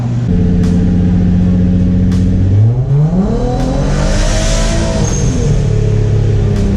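Turbocharged Infiniti G35 with a rear-mount MaXpeedingrods turbo revving hard on a dyno, loud and close, its engine note sweeping up through the gears with a whooshing turbo hiss and brief shift breaks.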